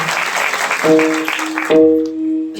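A short burst of clapping for the mridanga player at a Marathi kirtan quickly gives way to sustained musical tones that ring out over and after it.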